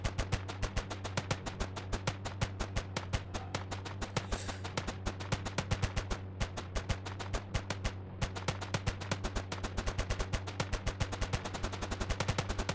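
Rapid gunfire in the Indian Bike Driving 3D video game strikes the Tarzan car: long bursts of sharp, evenly spaced shots, with brief pauses, over a steady low engine drone.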